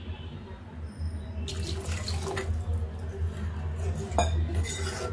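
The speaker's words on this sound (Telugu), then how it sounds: "కొంచెం వాటర్ వేసుకుందామండి" Water splashes from a tap into a pan for a home-cooked egg curry, starting after a quiet moment and running steadily with a few metallic clinks of utensils.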